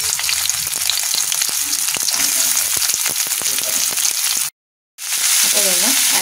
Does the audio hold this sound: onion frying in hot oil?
yes